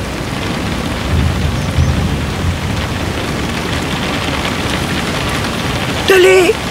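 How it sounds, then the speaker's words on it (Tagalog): A powerful storm strikes a village, with steady heavy rain hissing throughout and low rumbles of thunder rolling in twice near the start. "At isang araw, biglang dumating ang isang napakalakas na bagyo."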